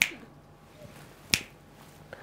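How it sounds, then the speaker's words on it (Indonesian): Three crisp finger snaps in a quiet room, one at the start, a loud one in the middle and a softer one at the end, made as part of an alternative healing treatment. "jentikan jari betul masa itu bahasanya jentikan jari"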